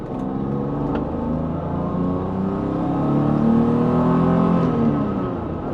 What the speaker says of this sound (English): sounds that come out of this engine are just incredible